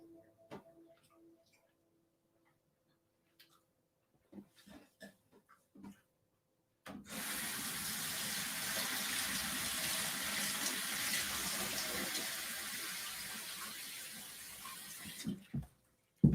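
A kitchen tap runs steadily for about nine seconds as olives are rinsed beneath it, a close, even rush of water that comes after a few scattered clicks and handling sounds and ends with a couple of knocks.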